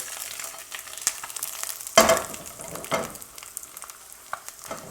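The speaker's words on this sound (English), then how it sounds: "Overcooking the egg, still not sticking." An egg fries in a Starfrit Rock Diamond Edition nonstick pan, giving a soft steady sizzle with a few louder scraping or stirring bursts, close and without talk.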